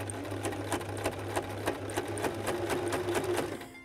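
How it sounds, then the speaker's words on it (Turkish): A sewing machine stitches through five layers of quilting fabric with a steady, fast, rhythmic clatter and an underlying motor hum, close up and alone. "Tabi kumaş burada 5 kat olduğu için sesi biraz kuvvetli çıkıyor makinenin."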